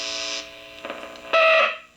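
Dirty potentiometers on a guitar amplifier give off a buzzing, crackling hum that surges in uneven bursts, ending in a loud harsh stretch before fading.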